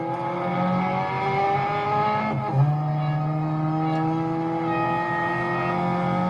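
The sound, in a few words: racing cars engines revving in video game Real Racing 3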